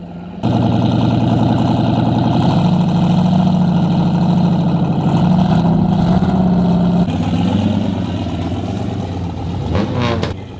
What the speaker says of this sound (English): So lifted Tahoe, 22 pounds of boost. Side exit exhaust.